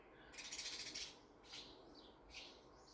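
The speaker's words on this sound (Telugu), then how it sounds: "ఫుడ్ అయిపోతే అలా పిలుస్తాయి అన్నమాట." Sparrows calling for food, several faint bursts of bright, rapid chirping: a longer trill early on, then two shorter squeaky calls, with quiet background between them.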